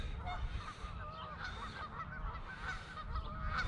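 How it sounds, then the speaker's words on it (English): Geese honking repeatedly in a noisy, overlapping chorus, fairly close, over a steady low rumble of outdoor background noise. "Scared some geese."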